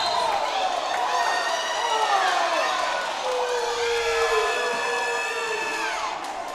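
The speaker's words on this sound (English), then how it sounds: "You can hear the groans from one side of the gym. You can hear the screams of joy from the other." Crowd in a college basketball gym at an NCAA Division III conference tournament quarterfinal, a sustained wash of screams, cheering and groans filling the room, loud and dense throughout, with shouting voices mixed in.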